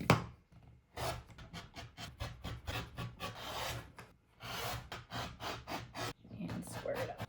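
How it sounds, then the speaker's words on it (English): Quilt fabric is trimmed into pieces with quick, rhythmic scraping cuts and rubbing strokes, close but soft, arriving in several runs separated by brief pauses. "now I can trim these into pieces"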